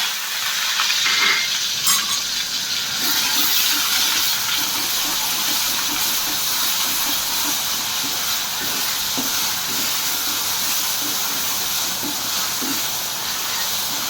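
Onion, mustard seeds, cumin and curry leaves sizzling in hot oil in a kadhai over medium-high flame for Puneri misal, a steady close hiss of frying with faint stirring, no voices.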